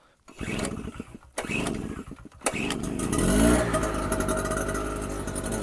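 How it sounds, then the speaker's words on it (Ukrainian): A petrol generator on choke cranks from cold, sputters a few times, then catches and settles into a steady, loud running drone with no talk over it. "Щось заведемо генератор, хай він трошечки пробурчить."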